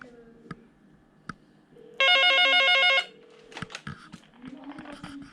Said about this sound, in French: voilà le téléphone qui sonne ici